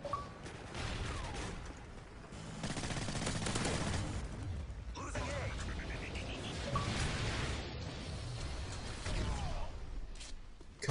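Rapid-fire SMG bursts in a video game crackle in dense, fast volleys over a busy mix of other game effects and whooshes, loud and continuous through the clip.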